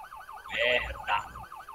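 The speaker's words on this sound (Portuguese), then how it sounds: "Os caras veem a sirene da polícia e já breca" A police siren wails in a video game, its rising and falling tone steady across the clip and partly covered midway by louder bursts of game noise.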